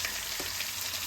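Onions fry in a pan with green chili, ginger and green onion for a curd thalippu, a close, steady sizzle without pause.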